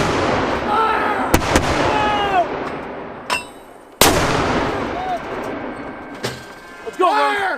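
Live-fire US–South Korea combined military exercise: loud, sharp gunshot and artillery blasts, a few spaced reports echoing out, with shouted commands between them.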